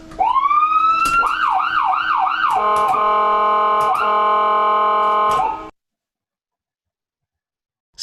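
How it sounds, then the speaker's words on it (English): A loud wailing siren cycles rapidly up and down in pitch for about five seconds, then cuts off abruptly into silence. "There are sirens blaring."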